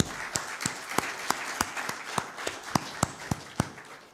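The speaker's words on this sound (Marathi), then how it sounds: "पहिल्यांदा तुमच्यासाठी टाळ्या वाजवू आपण" A youth convention audience claps in unison, producing a steady rhythm of sharp, evenly spaced claps that repeat about three times a second in a hall.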